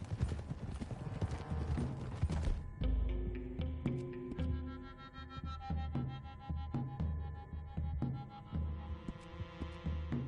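Horses galloping across open country in Red Dead Redemption 2, a loud steady clip-clop of hooves thudding under a rumbling music bed, with a brief neigh, no talk over it.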